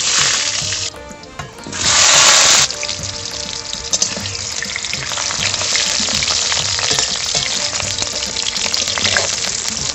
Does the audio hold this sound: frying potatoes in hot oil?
yes